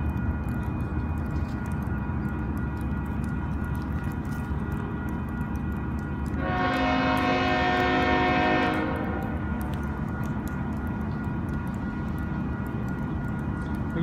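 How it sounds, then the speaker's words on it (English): A K-Line double-stack container train rolls past a rail yard on a bypass track, heard from beneath a bridge, its steady rumble and rail noise swelling to a louder, ringing passage mid-clip before easing back to a continuous background roar. "Looks like a K-line stack train."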